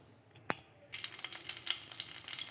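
Cumin seeds and dried chili hit hot oil in a wok with a sharp clack, then burst into a crackling, popping sizzle that continues close and lively.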